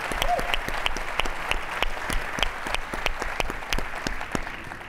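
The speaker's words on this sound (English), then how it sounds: "Let's please give a round of applause to the entire eMerge team." Steady audience applause for the eMerge Americas team at a tech conference welcome session, a dense wash of many hands clapping continuously at moderate level with scattered sharper claps standing out.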